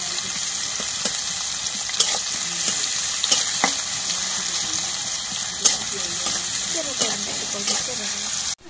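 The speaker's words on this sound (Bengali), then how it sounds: "এখন মরিচ পেঁয়াজ ভাজা হয়ে গেছে" Green chili and chopped onion frying in oil in a home kitchen, a steady close sizzle with occasional scrape clicks of stirring and no talk.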